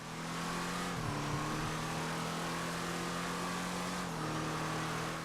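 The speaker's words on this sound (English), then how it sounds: "Let's see how fast we can get this car to go." A tuned sports car with turbo accelerates flat out in GTA V, its engine holding a loud, steady high-revving drone with brief gear-shift dips about one second and four seconds in.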